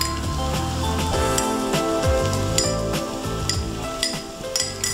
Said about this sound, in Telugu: సో ఇప్పుడు పన్నీర్ వేస్తున్నా అండి.